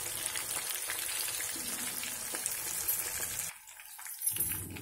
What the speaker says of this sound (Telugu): ఇదండి ఇలాగా నెత్తళ్ళు వేగాయి కదా